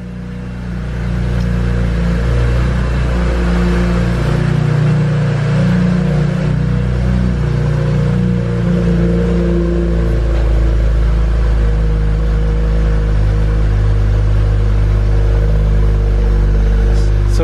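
A BMW E90 with catless downpipes, stock exhaust and a stage 2 tune accelerating hard under boost, a loud, close engine roar that builds after a quiet start and holds a strong, rising drone throughout.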